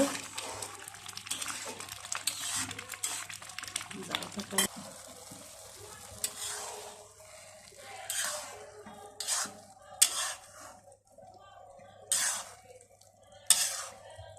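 A spoon scrapes and stirs through pilau rice in a pot with green chillies and raisins, giving scattered scraping and clinking strokes between quieter pauses, with a faint steady hum underneath.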